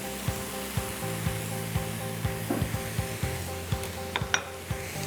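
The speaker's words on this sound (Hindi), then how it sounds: "और अब आप इसको अच्छी तरह स्टर फ्राई करिए।" Carrot Szechuan rice with soy sauce is stir-fried in a pan: steady sizzling with regular spatula scrapes and taps against the metal, close and continuous.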